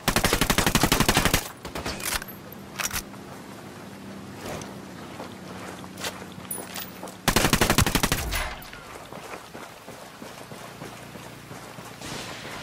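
Bursts of automatic gunfire in the Ghost Recon video game, a loud sustained volley at the start and another around the middle, with quieter scattered shots and ambient rumble between them.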